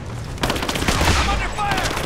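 Gunfire in Rise of the Tomb Raider, rapid bursts of automatic shots crackling in quick succession amid a brief muffled boom, loud and close over game ambience.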